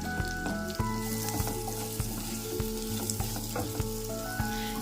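Chopped onions shallow frying in a pan for a paneer gravy, a steady close sizzle broken by regular scraping knocks as the onions are stirred, with no talk.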